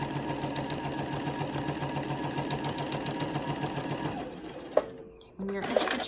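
A sewing machine edge-stitches a Val breast form, its needle chattering in a steady rapid rhythm for about four seconds before slowing and stopping, followed by a few soft handling clicks.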